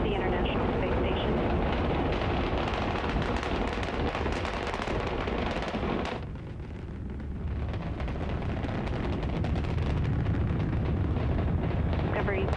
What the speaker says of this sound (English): Discovery's engines are throttling down as the orbiter passes through the area of maximum pressure on the vehicle.